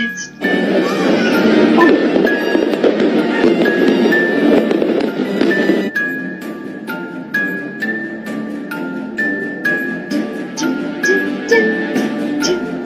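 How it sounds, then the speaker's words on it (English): A fireworks display filmed from the ground, with a dense, steady crackle and rapid pops through the first half, then a run of sharper, separate bangs and tinkling bursts, loud and continuous throughout. "Man is filming a firework display"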